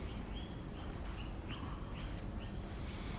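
Magpies, lorikeets and noisy miners call through a Japanese garden in the morning, a run of short rising chirps and whistles repeating every half second or so, moderately distant over a constant low background hum.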